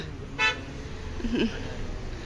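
A car horn gives one short toot on a road on the way to Darjeeling, fairly faint and a little distant over a low traffic rumble, followed by a soft second sound.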